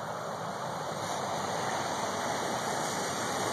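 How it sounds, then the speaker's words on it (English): Floodwater rushing over the Route 5 and 114 intersection behind an ice jam makes a steady, loud, broadband roar with no breaks, close by and with no voices. "Water is flowing over Route 5 and 114"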